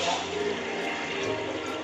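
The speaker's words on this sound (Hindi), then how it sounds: "अब इसमें डालेंगे हम पानी।" Water poured from a tap or jug into a cooking pot holding beef trotters for paya, a steady broad rushing and splashing that stays loud and continuous throughout with no pauses.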